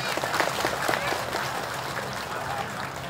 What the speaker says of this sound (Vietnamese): Xin toàn thể các quý Phật tử dâng cao tràng pháo tay để chia sẻ niềm vui trong mùa Phật đản này